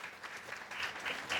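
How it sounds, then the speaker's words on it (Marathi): Audience applause breaks out at a women's empowerment event, a steady wash of clapping that swells and holds for a moment at a moderate distance, with no voices over it. "वाव वाव वाव, जोरदार टाळ्या"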